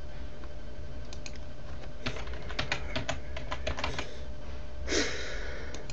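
Someone types on a computer keyboard, entering a name into a Google account sign-up form on Ubuntu: irregular runs of quiet key clicks over a steady background hum, with a louder rustle near the end.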